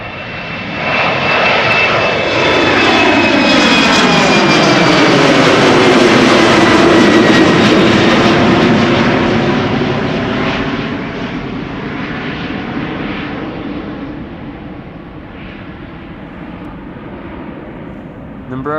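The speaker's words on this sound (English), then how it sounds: "This is KLM flight 1799 going to JD's hometown Düsseldorf." A KLM jet airliner, flight 1799 to Düsseldorf, roars past at Schiphol Airport, a loud broad engine rumble with a sweeping whine that swells to a peak and slowly fades as it moves away.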